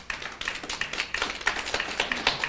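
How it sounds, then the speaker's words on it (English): Audience at a civil service public forum applauding, a sparse, irregular patter of individual hand claps from a modest crowd, moderately quiet and continuous for a couple of seconds. "And that deserves a round of applause."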